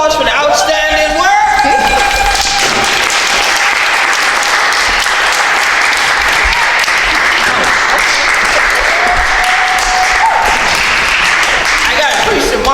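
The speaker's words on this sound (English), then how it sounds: "so everybody can give y'all a round of applause for the outstanding work" An audience applauds artists at a Gullah/Geechee artwork showcase in Conway, South Carolina: loud, sustained clapping that fills the room, with scattered whoops and voices mixed in throughout.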